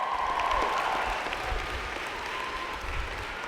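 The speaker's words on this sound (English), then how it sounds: "Please applaud your family, friends, faculty, and staff, and all those who helped you to achieve your goal." Graduates applauding during a university spring convocation ceremony: steady, sustained clapping from a large seated hall, fairly loud and continuous throughout, with no talk over it.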